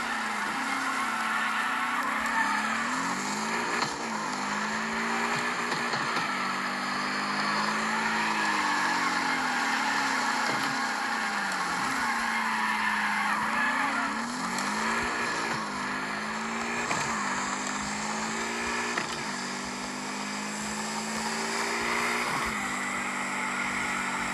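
Game car engine in CarX Street whining and shifting pitch continuously while drifting, with repeated rise-and-fall revs and faint tire squeal, loud and steady throughout without talk.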